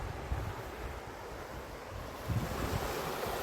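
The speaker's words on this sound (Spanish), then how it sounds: "Es un río bastante, tiene bastante agua, ¿ves? Es caudaloso." A fast-flowing, high-volume mountain river on the way to Pico Pan de Azúcar rushes with a steady, broadband roar, faint and continuous, with wind buffeting the microphone at times.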